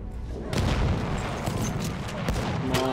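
Heavy booms and gunfire in the video game Battlefield 1, with grenade explosions and shots packed closely together in a loud, chaotic battle mix.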